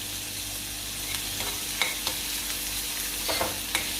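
Chopped onion with turmeric fries in a pan, a soft steady sizzle with a few faint clinks or stirring taps, quiet and unaccompanied by talk.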